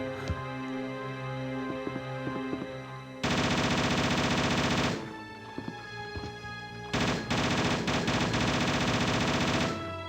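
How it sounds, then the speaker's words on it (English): A Mac 10 machine gun in Resident Evil fires two long sustained bursts of rapid shots, loud and close, with brief separate shots and quieter game sounds between them. "Mac 10 machine gun"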